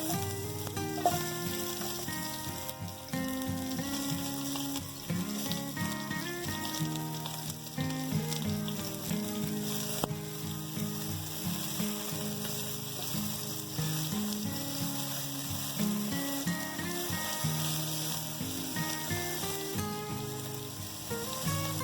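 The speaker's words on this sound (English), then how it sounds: "Let that fry up a little bit in the oil." Onion fries in hot oil in a pan for pumpkin takari, a steady close sizzle and crackle running throughout, with light cooking clatter on top and no talk.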